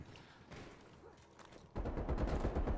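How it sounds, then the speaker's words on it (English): TEC-9 gunfire in a video game, a sudden loud burst of rapid shots after a quieter stretch of game ambience with distant pops. "I'm gonna shoot his body because he's not backing out."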